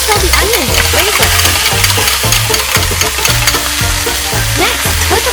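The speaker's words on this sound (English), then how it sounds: "Put the onions in the pan. Stir well until the onions are flavored." Onions sizzle steadily in melted butter in a pan, with a spatula scraping and stirring in a regular rhythm, close and fairly loud, with no talking.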